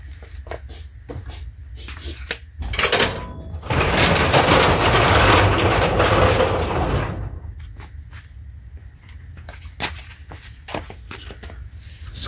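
A residential garage door rolls open with a loud, sustained rumbling clatter lasting a few seconds, preceded and followed by handling noises and footsteps nearby.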